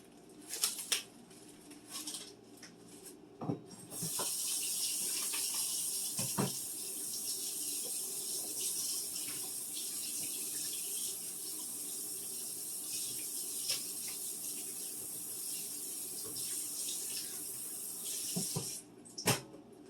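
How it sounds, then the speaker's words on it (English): Raw chicken is rinsed under a kitchen tap, a steady running-water hiss that plays for about fifteen seconds between brief clatters and knocks, moderately faint and with no voices. "I'm going to take my chicken, I'm going to rinse it really quickly"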